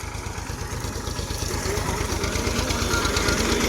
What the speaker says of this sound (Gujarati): ટ્રેક્ટર જો આયલું આવે છે